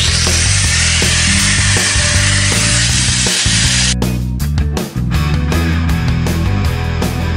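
Power tool cutting the sheet metal of a car wheel arch, a loud, continuous grinding shriek close by that shifts into rapid, stuttering cutting strokes partway through.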